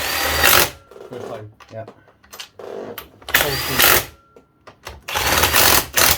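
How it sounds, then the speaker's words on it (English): Bursts of a pneumatic impact gun rattling gearbox bolts tight on a VW Golf / Audi TT six-speed gearbox under repair, several short loud runs separated by pauses, with brief speech in between. "Never ever check your bolts by hand. Always gun them in."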